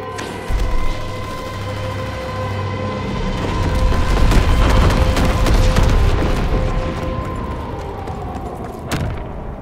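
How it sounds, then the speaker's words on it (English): Bombing run explosions in the video game Call of Duty: WWII, a dense rolling barrage of booms and gunfire that swells through the middle and fades, with a steady engine drone beneath. "Altitude bombing run inbound."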